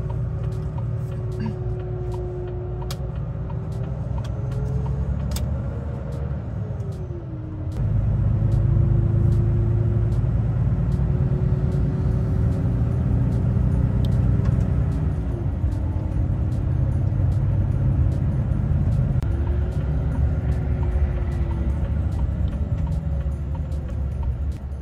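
A truck driving on the road at night, cargo marked as dangerous, its engine drone a steady loud rumble with low tonal whine that shifts pitch around gear changes, continuous and close throughout.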